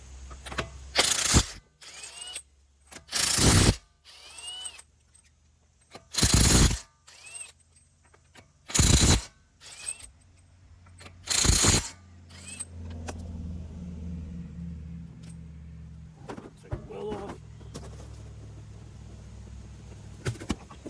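A 21 mm socket works on a Nissan car's wheel, giving repeated loud bursts of ratcheting and metallic clatter separated by short pauses, followed by quieter rattling and handling noise, close up with no talk.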